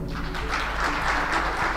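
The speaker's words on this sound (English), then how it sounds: "So let us welcome Aisha with full applause" An audience claps in welcome for a happiness coach at a hotel training event, a dense, steady burst of applause close by.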